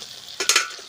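Crab frying in oil in a pan, a short burst of sizzling with a couple of quick clinking stirs over a faint background hiss, no voices.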